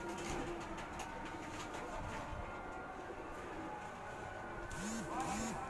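Pigeons coo on a rooftop in Karachi, soft repeated rolling coos standing out near the end over steady outdoor background noise and distant activity.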